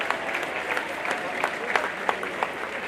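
Steady applause from an audience, dense clapping with a few sharper claps standing out, continuing evenly throughout.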